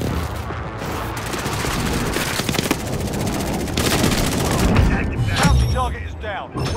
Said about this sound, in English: Watch out, somebody's shooting on me